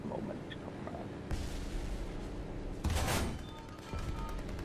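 ZiS-30 self-propelled gun in the tank game War Thunder firing, with heavy booming shots and rumbling blasts standing out over continuous battlefield noise, loudest near the three-second mark.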